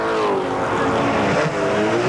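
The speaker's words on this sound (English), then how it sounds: "Great little scrap going on here between these 2 Ford Capris coming over the mountain." Two Ford Capri touring cars battle over the mountain section of a race circuit, their loud engines roaring continuously and overlapping at close range throughout, with no talk.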